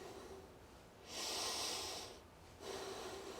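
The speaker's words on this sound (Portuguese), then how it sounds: "Praticar nossa respiração e conseguir sentir o abdômen inflando." Breathing exercise in a four-point kneeling position: two quiet, airy breaths with a short pause between them, soft and close, with no speech.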